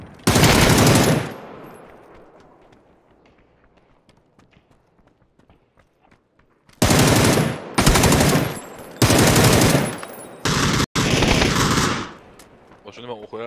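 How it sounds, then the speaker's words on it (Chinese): Gunfire in a Protect The Boss video game: several loud bursts of automatic fire in quick succession after a long quiet stretch, with a single sharp shot near the start and a short gap between volleys. "这枪声，我看一下你们杀了几个了。"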